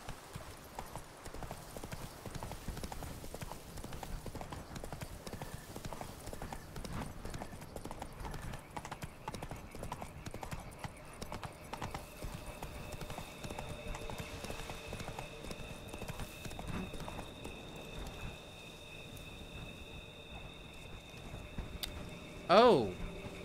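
Roach, the horse in The Witcher 3: Wild Hunt, gallops steadily with rapid rhythmic clip-clop hoofbeats over game ambience, moderately loud and continuous, ending with a short louder burst.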